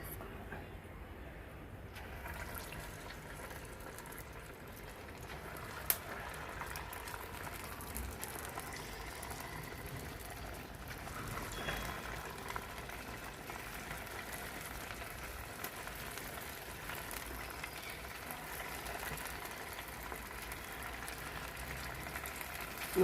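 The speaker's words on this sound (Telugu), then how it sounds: "నూనెలో వేగానే చూసారా ఎలా లేచి వస్తున్నాయో చక్కగా." Spoonfuls of punugulu batter fry in hot oil, giving a steady, soft bubbling sizzle like light rain that carries on evenly and fairly quietly throughout, with no talk.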